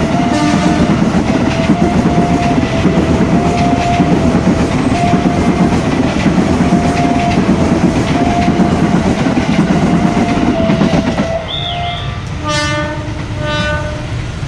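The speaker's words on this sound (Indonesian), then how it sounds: "Ini ada kereta dari sebelah sana, dari arah Kebayoran, melewati pembangunan pos JPL 58A." A commuter train coming from the Kebayoran direction rolls past a railway level crossing that is under construction. The wheels rumble close and loud over the track and a crossing bell rings repeatedly. The horn sounds near the end, and a brief word is spoken.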